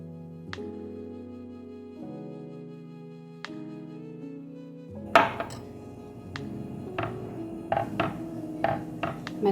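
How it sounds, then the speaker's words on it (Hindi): A spoon stirs custard into milk vermicelli in a pan. The second half is a close series of irregular clinks and scrapes against the pan, preceded by a quieter stretch of steady tonal background. "मैं इसको डालती जाती हूँ, मिक्स करती हूँ"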